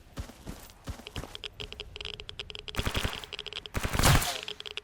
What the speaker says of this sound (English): If you're gonna fire at me, you do it now. Yes, you are. You're firing at me.